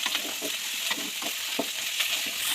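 Ginger garlic paste sizzling with curry leaves and golden onions in a pan, a steady bright frying hiss with repeated scraping stir strokes, close and continuous, no voices.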